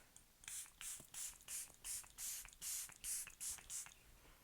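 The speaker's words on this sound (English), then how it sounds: "Do you ever try to spray your very last spray of a mist and it totally betrays you?" A nearly empty facial mist spray bottle sputters through a rapid series of about eight short, hissing bursts in an even rhythm, close and fairly loud.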